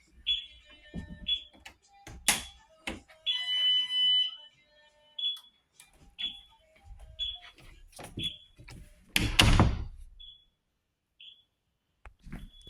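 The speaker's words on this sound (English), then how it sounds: "I do have the chime set to one you wouldn't typically hear, so y'all will hear that" An ADT Impassa alarm keypad sounds its entry-delay chime, a string of short high electronic beeps that repeat at a quickening pace, mixed with nearby clatter, footsteps and a loud burst of handling noise.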